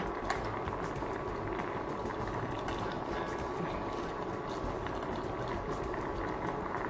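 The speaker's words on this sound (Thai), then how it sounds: "ตั้งไฟอีกครั้งหนึ่งนะคะ ให้ผักที่เหลือที่เราเพิ่งใส่ไปนะคะ สุกดีก็สามารถจัดเสิร์ฟได้เลยนะคะ" Thai sour curry with sea bass and mixed vegetables boiling in a pot on the stove, a steady close bubbling and simmering hiss that runs unchanged throughout with no talk.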